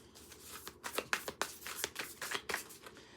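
A stack of tarot cards is shuffled by hand in quick, uneven riffling bursts of papery flutters and slaps, close and fairly quiet, with no talking.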